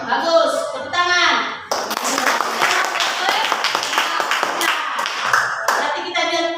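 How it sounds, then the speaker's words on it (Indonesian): A class of pupils claps together after the teacher speaks, a burst of individual hand claps rising into several seconds of lively applause, with speech briefly before the clapping. "Tepuk tangan."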